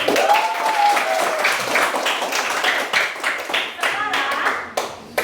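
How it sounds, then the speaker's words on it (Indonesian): A primary school class claps hands together, a lively, close round of claps lasting several seconds, with children's voices calling out over it. "kasih tepuk tangan dulu"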